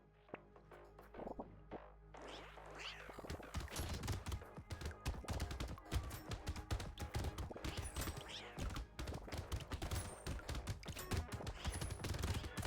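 Rapid automatic gunfire from a Catling Gun in the action game Brotato, a dense stream of small popping shots with game effects, starting sparse and quickly building to continuous loud firing that runs to the end.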